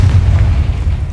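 A booming blast from the Confringo fire spell in Hogwarts Legacy, a single heavy low rumble that stays loud and sustained for the whole second with no talk over it.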